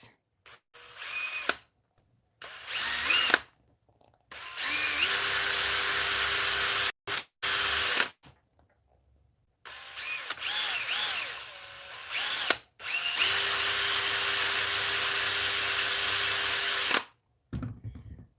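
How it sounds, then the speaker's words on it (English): A power drill bores holes through Proline Badland MX rubber RC car tires in repeated bursts, whining loud and close for several seconds each, separated by short silent gaps. "Why are you drilling holes in the rubber?"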